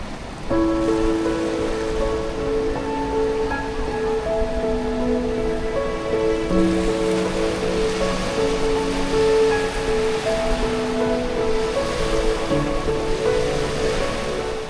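Sea waves wash onto Baguran Jalpai beach near Digha, by the mouth of the Pichhaboni river, making a continuous, steady roar of surf with a few faint tonal sounds layered over it.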